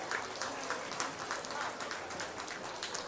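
Applause from a crowd around a livestock show ring at the 83rd Preston County Buckwheat Festival, a dense, sustained patter of many hands clapping at moderate distance, steady throughout with no speech.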